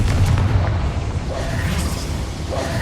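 A Confringo blasting spell goes off in Hogwarts Legacy, a loud, deep rumbling explosion that rolls and fades over a few seconds, with no talking.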